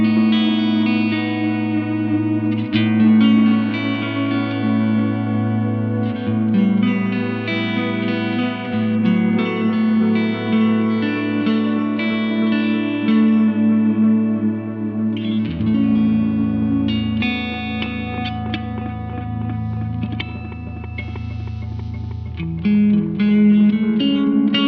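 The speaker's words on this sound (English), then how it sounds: "if you turn it up, you get a bit of noise and then maybe some delay" Electric guitar through a compressor pedal with delay, smooth sustained notes and chords washed in echoing delay and reverb, ringing out in a spacious ambient swell.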